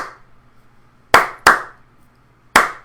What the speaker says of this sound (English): it's me clapping it